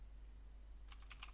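A short burst of keystrokes on a computer keyboard follows a stretch of quiet hum: five or six crisp, close clicks in quick succession as a command is typed into a command prompt.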